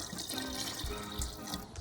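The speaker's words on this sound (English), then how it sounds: "So now we're gonna add 5 cups of water into the soup." Five cups of water pour steadily into a pot of French onion soup, a continuous close splashing and gurgling stream that runs unbroken for the whole stretch with no talk over it.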